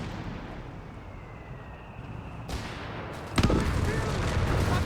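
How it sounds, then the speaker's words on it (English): A large explosion rips through a Company of Heroes 3 battle between Afrika Korps and British forces, a mine going off with nearby scenery. A low rumbling battlefield din builds to a sudden loud, sharp blast that leaves a sustained roar. "that was a big explosion"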